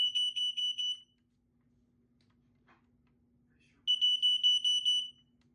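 A Kidde 0918 smoke alarm from 1997 sounds during a test, with a rapid burst of shrill, piercing beeps. They stop, then return after a few seconds of near silence, loud and close.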